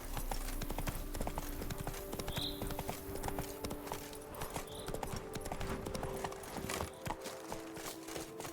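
A horse gallops at a steady pace in The Witcher 3: Wild Hunt, its rapid, rhythmic hoofbeats continuous and close over a constant game ambience.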